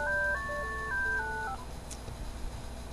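A mobile phone ringtone sounds for about a second and a half as a short melodic tone sequence, followed by quieter background noise with no talking.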